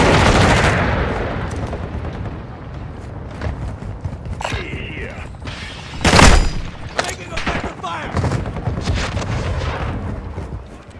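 Gunfire in the video game Call of Duty DMZ sounds as scattered shots and bursts, near and far, with a loud heavy blast midway, amid game noise and a few voices.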